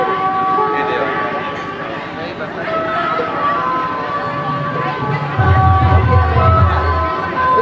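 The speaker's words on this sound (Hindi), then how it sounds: "देख सकते हो गाइस इतना भीड़ है" A large, noisy crowd mills around at an outdoor homecoming celebration for a returning soldier, a steady babble of many voices with a deep rumbling engine and horn-like tones joining near the end.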